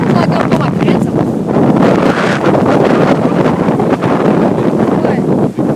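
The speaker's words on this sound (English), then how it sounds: "This wind doesn't seem strong enough to blow a person." Strong, gusty storm wind buffets the microphone in a steady, loud roar with brief dips, during storm chasing outdoors.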